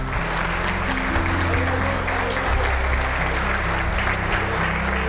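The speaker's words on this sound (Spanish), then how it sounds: "Démosle un aplauso al Dios de la iglesia que nos cobija." A church congregation applauds in a dense, continuous wash of clapping with a crowd murmur underneath and a low musical hum, loud and sustained throughout.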